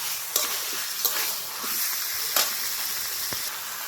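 Chicken feet, gizzards and liver cook with spices in a pan, giving a steady sizzle broken by a few sharp spatula scrapes and stirs, close and moderately loud, with no talking.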